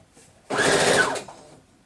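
A home sewing machine stitches a quarter-inch seam on fabric in one short whirring burst of under a second, close and fairly loud, with no talk.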